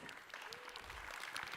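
An audience applauds steadily at a design and construction conference as a speaker is welcomed on stage, a brief, even wash of clapping at moderate volume.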